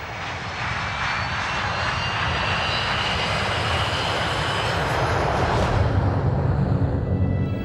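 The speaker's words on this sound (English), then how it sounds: "Just before 11 that evening, Bashkirian Airlines Flight 2937 leaves Moscow. The plane is a Tupolev 154." Tupolev 154 airliner engines roar steadily in flight on Bashkirian Airlines Flight 2937 out of Moscow, a loud, continuous broadband drone with no break or voices.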